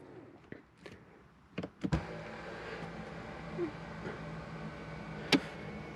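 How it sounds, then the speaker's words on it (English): Powered rear sunshade in a Mercedes-Benz S560 sedan whirring steadily as it moves, a soft motor drone inside the quiet cabin after a few small button clicks and knocks. "This button, rear sunshade up and down,"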